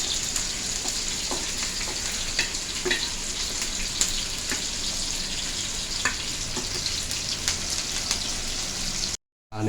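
Chicken with masala for a curry sizzles steadily in a hot pan, a close, continuous frying hiss with small pops, cut off by a brief silence near the end.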